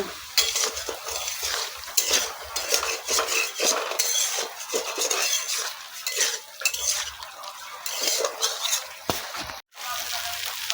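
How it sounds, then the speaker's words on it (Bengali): Spice paste is sautéed in a pan for a paneer and potato curry, with repeated spatula scrapes and clinks against the metal over a soft, steady sizzle, close and uneven in rhythm, with no speech. "মশলাটাকে এখন আমি কষিয়ে নিব"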